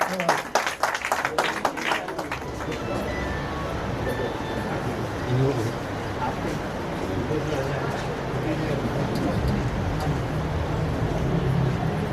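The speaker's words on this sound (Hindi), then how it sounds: "जोरदार तालियां हो जाए, मालूम पड़े कि हाँ कुछ हो रहा है।" An audience applauds at an award ceremony honouring a senior writer. Brisk clapping starts loud, then settles into a steady, broad wash of applause that continues under a voice speaking over it.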